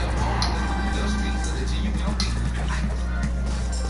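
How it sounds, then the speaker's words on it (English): A dog heard faintly in the background of a PS4 game session, giving a few soft yips and whimpers beneath a man's speech and steady game noise. "Is that a dog?"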